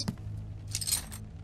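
Bolt cutters clamp and snap a lock in the survival horror game DYING: Reborn, giving a few faint, close metallic clinks and a brief rattling chink with no talk over it.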